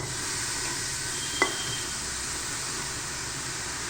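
Chili powder, dhania powder and mint leaves are stirred in a hot pan for tomato rice, a steady sizzle with soft scraping and one sharp clink of the spoon against the pan.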